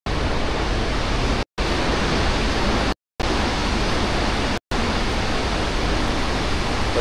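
Water pours through an opened gate at Srisailam Dam as a steady, dense roar, broken by three very brief silent gaps, with no voices.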